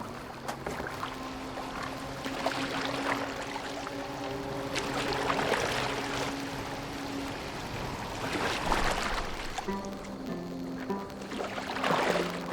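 A boat moving on water in Assassin's Creed Valhalla, with continuous splashing and rushing water in repeated surges as oars or the hull push through, steady and fairly close with a low background hum.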